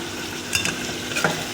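Tomatoes fry in a pan for bhuna gosht under a soft steady sizzle, with two brief scraping stirs of a spoon against the pan standing out.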